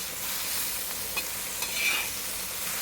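Mirchi thecha being stirred and mixed in a pan, a soft scraping and gentle sizzle running continuously with a few brief louder scrapes, quiet and close.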